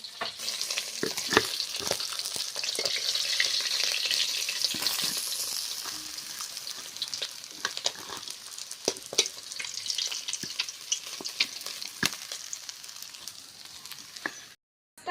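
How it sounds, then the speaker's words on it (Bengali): Freshly caught pond fish fries in hot oil, giving a loud, steady sizzle with crackling pops and occasional scraping stirs that cut off abruptly at the end. "মাছটা আমার ভাজা হয়ে গিয়েছে এবার তুলে নিচ্ছি"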